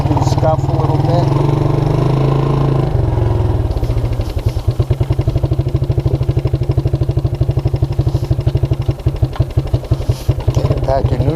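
A Suzuki Quadrunner LT230E ATV engine runs close by with its choke on, first a steady drone and then a rapid, loud chugging putter, with someone talking over it.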